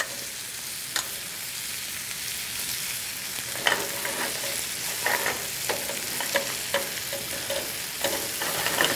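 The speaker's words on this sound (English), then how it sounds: "we're going to spoon off the fritter into the oil, and you're going to fry nice and crispy" Ricotta, spinach and bacon fritters frying in hot oil, a steady sizzling hiss with scattered soft pops and crackles, fairly quiet and close, with no talking.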